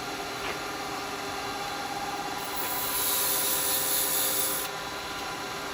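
A dust extractor runs steadily in a woodturning workshop, a broad continuous whoosh with a harsher rushing surge partway through before settling back to a constant drone.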